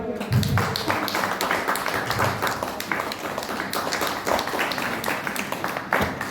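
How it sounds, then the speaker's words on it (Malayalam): An audience at a women's club Mother's Day event claps steadily and fairly close, a dense patter of many hands that runs for several seconds without a break. "കൈയടിക്കാം"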